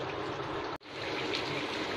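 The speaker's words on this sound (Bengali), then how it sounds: "পানিটা দিয়ে দিচ্ছি" Water poured steadily onto fried rice for chicken biryani, a close, loud rushing stream with one brief break in the flow.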